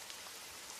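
Steady rain falling on surfaces, a soft continuous patter and hiss with no breaks, faint and even throughout, no voices.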